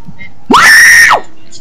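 A character in the Fortnite video game lets out a loud, shrill scream that lasts about two-thirds of a second, rising sharply and then falling away over a low background.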